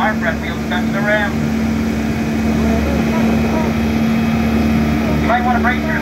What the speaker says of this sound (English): he's going to go full throttle until our front wheels touch the ramp.